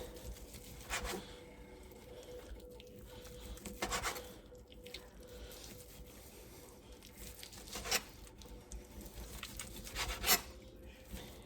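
A knife cuts pork into very thin slices on a cutting board, each stroke a short scraping rasp. The strokes come at loose, spaced intervals over quiet, close-up kitchen background.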